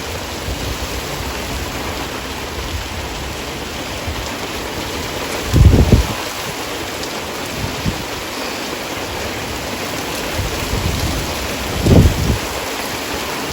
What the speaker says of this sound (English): it looks like we have a storm brewing